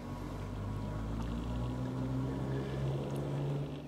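A model railway locomotive's electric motor runs and slowly gathers speed, a faint, steady hum with a gently rising whine, heard alone without talk.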